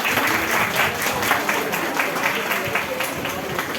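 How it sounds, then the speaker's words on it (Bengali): Sustained applause from a college audience at a geography department fresher's program, honoring a teacher; steady, dense clapping fills the whole stretch at close range with a lively crowd feel. "তার জন্য তোমরা একটা হাততালি দাও।"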